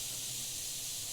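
An Iwata HP.CR3 airbrush spraying thinned paint, a steady bright hiss of air held close and even throughout.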